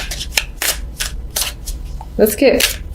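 Tarot cards shuffled and drawn during a love reading, in a run of quick papery riffles and flicks with a brief louder scrape of cards near the end.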